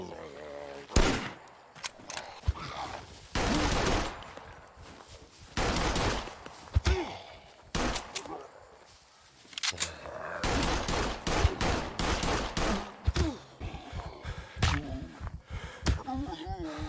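Video game gunfire in bursts of rapid shots and volleys, loud and up close, with a player's voice talking over parts of it.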